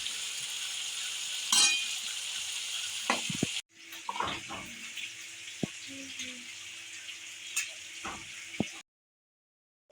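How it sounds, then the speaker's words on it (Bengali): Jackfruit and prawns fry in a pan with a steady, close hiss of sizzling oil, broken by a few clinks and stirring knocks before the sound drops out briefly and resumes. "কাঁঠালটাও ভাজা ভাজা হয়ে এসছে, কাঁঠাল আর চিংড়ি একবারেই নামিয়ে দিব।"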